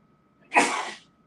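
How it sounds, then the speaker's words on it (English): A single sharp human sneeze, close and fairly loud, a quick burst lasting about half a second against near silence. "Bless you, babe."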